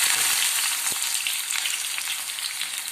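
Steady, loud sizzling of onions frying in hot ghee, a continuous crackling hiss with small pops throughout and no voices.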